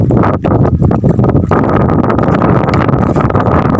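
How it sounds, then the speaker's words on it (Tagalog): Strong wind at sea with big waves roars and buffets the microphone continuously, a loud, steady rushing with gusty low rumble and no pauses. "Malakas yung hangin."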